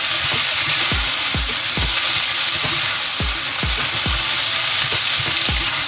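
Mushrooms and vegetables frying in a pan, a loud steady sizzle under a regular rhythm of about a dozen stirring scrapes, close up and without speech.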